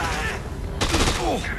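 Bursts of enemy gunfire aimed at the player in Dead Rising 2, sharp cracking shots in a quick cluster mid-clip amid game noise, with a voice reacting nearby.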